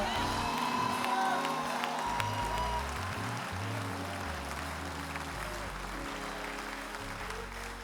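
A church congregation claps and cheers during a sermon, a broad sustained wash of applause with scattered whoops and voices, fairly distant and steady throughout, over a low rumbling hum.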